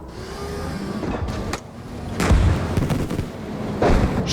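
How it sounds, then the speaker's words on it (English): Tank gunfire and artillery blasts in Gunner Heat PC from an M60A3 engagement: several loud, sharp booms and cracks at irregular intervals over a continuous engine drone, no talking. "Shots being exchanged with something."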